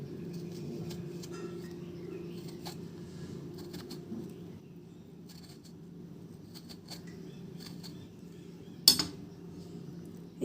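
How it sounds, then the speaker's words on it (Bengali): A knife cuts through eggplants down the middle, giving soft, scattered clicks and taps against a board over a steady low background hum, with one sharper knock near the end. "বেগুনগুলো একটু কেটে নেব মাঝখান দিয়ে"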